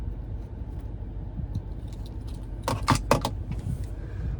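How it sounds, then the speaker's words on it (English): Keys and the remote-start key fob of a 2025 Cadillac Escalade V-Series jangle close by, with quiet handling at first and then a few sharp metallic rattles near the end. "Finally, here's the key fob with remote start."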